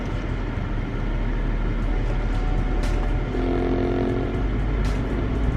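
A 2020 Duramax truck rolls over bumpy ground, its cabin filled with a constant low rumble and road roar, with a couple of brief knocks and faint talk now and then.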